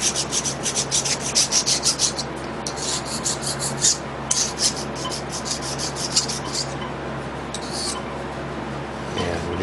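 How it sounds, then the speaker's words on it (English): A hand file deburrs the edges of nickel-plated copper strip in steady, close rasping strokes, a rhythmic series of short scrapes with brief pauses and a low background hum. "I'm going to take and deburr that with a file."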